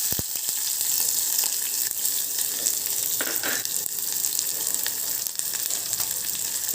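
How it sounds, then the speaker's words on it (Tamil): Mustard seeds splutter and chopped onions fry in hot oil for spinach dal, a loud continuous sizzle with a few brief crackles and an occasional stir. "கடுகு பொரிஞ்சு வர நேரம் பார்த்து நம்ம வெங்காயத்தையும் நம்ம அதில் ஆட் பண்ணிக்கிறோம்."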